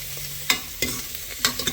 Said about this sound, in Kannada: ಇವಾಗ ಇದನ್ನು ಹುರ್ಕೋತಾ ಇದ್ದೀನಿ.